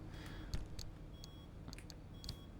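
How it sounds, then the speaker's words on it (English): Fax message alert in the video game Pacific Drive: a few short, sharp electronic beeps spaced irregularly over a low hum, fairly faint and with no talking. "What's that beeping?"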